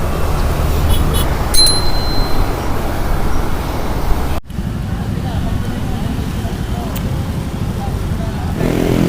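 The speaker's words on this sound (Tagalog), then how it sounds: "Traffic na." Road traffic on a climb in Angono, Rizal, heard from a moving bicycle: a steady loud roadway rumble with wind noise, a brief high bell-like ring early on, and a voice speaking over it.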